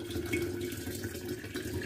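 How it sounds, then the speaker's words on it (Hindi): Boiled, cooled water pours steadily from a kettle into a container while pickle is being made in a home kitchen, a continuous close splashing trickle with no pauses. "अब मैं इसमें ये डाल रही हूँ पानी।"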